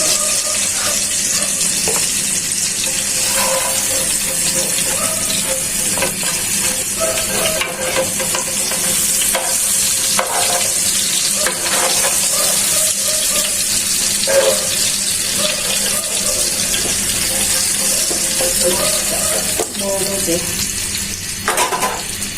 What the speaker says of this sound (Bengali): অন্য মাছগুলো একটু একটু ভেজে দিচ্ছি।